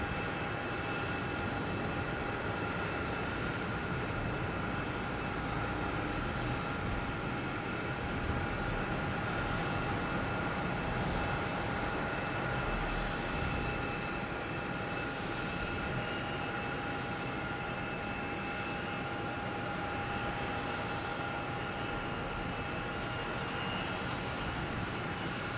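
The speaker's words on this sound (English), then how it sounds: "we got JetBlue coming from Raleigh-Durham in A220" JetBlue Airbus A220 arriving at Boston Logan from Raleigh-Durham, a faint, distant, steady jet whine and rumble lasting throughout, with no voices.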